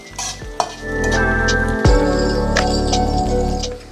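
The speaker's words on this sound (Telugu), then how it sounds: "వెంటనే ఒక 10 మిరియాలుమ్మా కచ్చా పచ్చా దంచి వేస్తున్నాను" Crushed peppercorns and dried red chillies hit hot oil for garlic rice, giving a loud, steady sizzle with clattering stirring and a sharp thump partway through.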